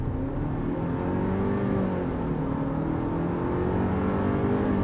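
A Kia Tasman pickup with a 4-cylinder gasoline turbo engine accelerates hard under kickdown, heard from inside as a steady, rising engine drone with whirring tones climbing in pitch throughout.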